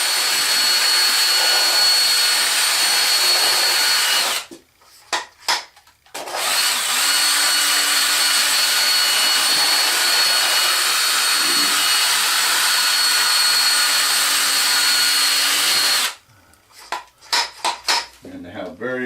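A Spin It Off magnetic black sand separator runs a pass, a loud steady whirring hum with a brief stop and restart midway, then clattering handling at the end.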